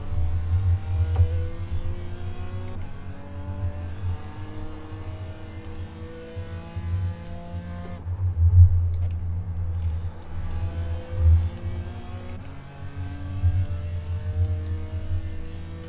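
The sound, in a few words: race car engine accelerating in IMSA racing video game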